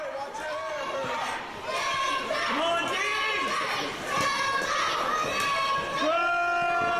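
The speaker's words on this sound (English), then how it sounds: "The crowd trying to get Danger Dean back in this matchup." Wrestling crowd, with many children among them, cheering and shouting in a continuous high-pitched chorus of excited voices that rises and falls.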